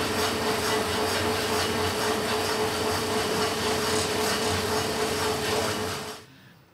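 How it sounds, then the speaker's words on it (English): A yarn spinning machine in a wool shed winds yarn off a bobbin into a skein with a loud, steady whirring drone that runs unbroken, then cuts off abruptly near the end. "this is going to spin very quickly. You're going to see it wind off the bobbin into a hank or a skein."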